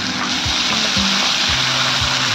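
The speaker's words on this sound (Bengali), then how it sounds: "হাই ফ্লেম দিয়ে এটাকে আমি ভাজবো যতক্ষণ না তেল ছাড় করতে" Mustard, poppy seed and garlic paste frying on high flame for kochur loti, a loud dense continuous sizzle close by with low scraping strokes underneath.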